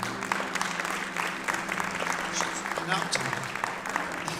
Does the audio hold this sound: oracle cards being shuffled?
no